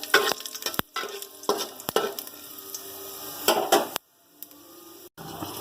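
Cumin seeds sizzle and crackle in hot oil during tempering for a vegetarian Bengali dish, with stirring scrapes and brief pauses between bursts of frying.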